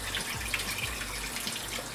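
Water pours steadily from a tap, a continuous close splashing rush with no voices.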